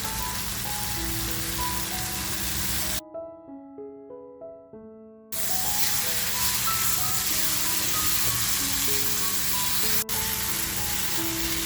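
Brinjal pieces dropped into hot frying masala for a dry fish dish, giving a steady hissing sizzle over background music that briefly cuts out, leaving only the tune before the sizzle returns.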